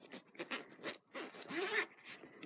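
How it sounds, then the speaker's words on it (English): A zipper being undone on a handmade fabric boxed zippy pouch, close and soft, a run of scratchy, uneven pulls with short pauses between bursts. "and we are going to undo this zip."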